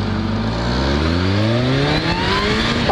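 A 2019 Kawasaki Ninja H2 motorcycle accelerating hard, its loud, close engine note climbing steadily in pitch over three seconds without a break.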